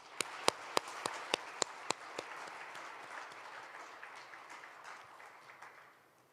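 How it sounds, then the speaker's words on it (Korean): Audience applause fills a hall at a national prayer breakfast, opening with a few sharp, distinct claps before swelling into steady, even clapping that gradually fades out. "다시 한번 큰 박수로 감사 인사를 드리겠습니다"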